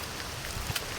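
Steady, loud rushing wind from a typhoon buffeting the microphone, a continuous broadband roar.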